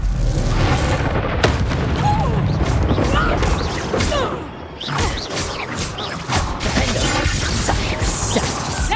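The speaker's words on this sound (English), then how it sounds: "Stop her! Confringo!" The Confringo blasting curse erupts in Hogwarts Legacy, with heavy booming blasts and crashing debris mixed with game action and some voice sounds.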